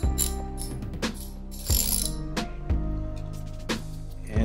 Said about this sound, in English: If you've got a Jeep Wrangler, you're going for a 10 millimeter wrench. And, just loosen that up.